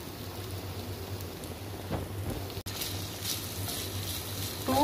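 Shawarma filling frying in one to two tablespoons of oil, a steady close sizzle and crackle running throughout with a few louder spatters and a brief dropout near the middle.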